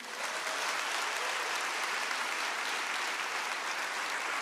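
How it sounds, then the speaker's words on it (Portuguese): A church congregation claps together in a dense, even burst of applause that fills the room and holds steady throughout, with no voices over it. "Pode aplaudir."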